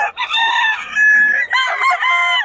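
A rooster of a prized gamefowl bloodline crows loudly and close by, one long harmonic call breaking into a second phrase, with faint clucking between.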